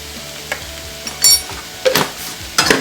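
Potato masala with salt and turmeric being stirred and sautéed in a pan while it is mashed, giving soft scraping stirs and a few louder bursts of sizzle and spoon clatter with no talking.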